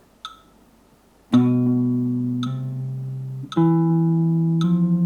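Plucked guitar notes ring out in a slow sequence of hammer-ons from third to fourth finger, each new pitch sounding sharply from the one before, clean and close with no voices.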